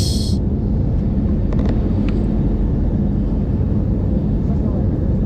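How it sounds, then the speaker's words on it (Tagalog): A passenger airplane climbing toward cruising altitude, heard from inside the cabin as a loud, steady, low engine rumble and roar, with a brief faint chime and clicks near the start. "Nag-stabilize na yung eroplano. Na-reach na yung altitude. Medyo nag-ascend pa."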